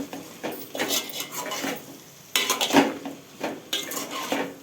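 Turmeric is stirred into broad beans and potatoes in a pan, with repeated metal spoon scrapes and clinks against the cookware in uneven bursts and a faint sizzle underneath, close and clear.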